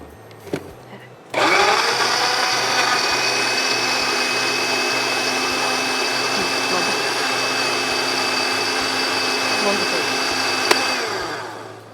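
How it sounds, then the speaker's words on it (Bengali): A blender whirs steadily for about ten seconds, blending a banana shake sweetened with honey, starting abruptly after a brief knock, loud and close, then winding down at the end. "তো এখন হচ্ছে আমরা এটাকে ব্লেন্ড করে নিব"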